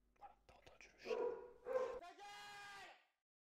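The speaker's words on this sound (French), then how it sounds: "voilà, t'as entendu le chien." Indoors, a dog gives a few short, muffled barks, then a drawn-out whining yelp. The sounds are fairly faint and fade out after about three seconds.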